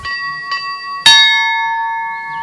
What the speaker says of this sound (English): 5 times a day a bell rings, and the followers turn solemnly to pray